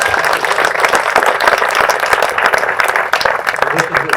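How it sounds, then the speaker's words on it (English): Sustained audience applause at a military retirement ceremony for a major general, loud and dense throughout, with faint voices mixed into the clapping. "please give another round of applause"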